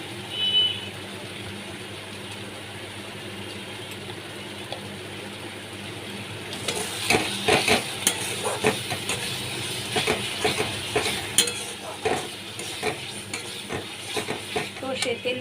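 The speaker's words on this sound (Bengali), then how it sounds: "দিয়েও আমি ভালো করে একটু কষিয়ে নিচ্ছি" Bhola fish coated in mustard paste frying in a pan, with a dense, steady sizzle that turns louder and crackly about halfway through, broken by repeated scraping stirs, all close up and without talk.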